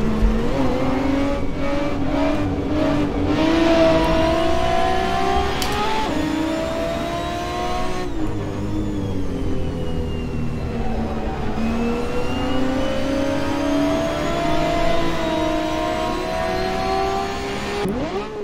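A Bugatti EB110 SuperSport driven in the Assetto Corsa racing game, its engine loud and close, revving and shifting through gears with rising and falling tones that run steadily throughout.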